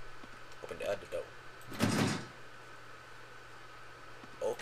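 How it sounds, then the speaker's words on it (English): In the survival game 7 Days to Die, a door swings open with a single whooshing, rattling burst lasting about half a second. It sits mid-clip amid faint background hum and a few soft voice fragments. "Open the other door."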